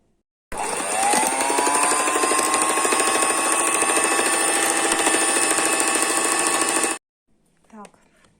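An electric hand mixer whips an ice cream mixture in a kitchen, a steady loud whine with a rising pitch at start-up that runs for about six seconds, then cuts off, followed by faint brief sounds.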